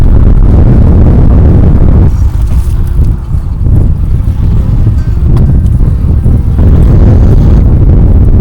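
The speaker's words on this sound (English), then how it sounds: "Pretty windy day." Heavy wind buffets the microphone continuously at the far end of a marina, a loud low rumble that roars steadily throughout with no other clear sounds.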